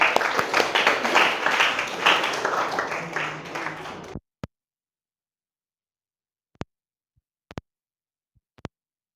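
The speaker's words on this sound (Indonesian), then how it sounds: "Tepuk tangan." Classroom applause after a student group presentation: a few seconds of dense clapping from a room of people that stops abruptly, leaving a handful of sharp isolated taps and clicks in near silence.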